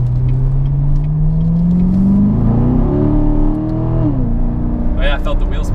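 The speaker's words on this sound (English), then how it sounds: "Oh yeah, I felt the wheel spin a little bit there." A Ford Mustang GT350 accelerates hard with wheel spin. The engine is heard from inside, loud and close, its pitch climbing smoothly through a long pull before easing off, with faint voices in the cabin.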